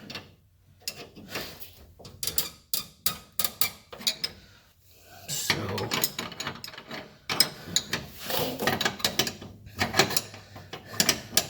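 Ratchet working the fuel filter fittings on a Chevy Impala, with bursts of quick clicking strokes separated by pauses and handling knocks, close and fairly loud with no talk.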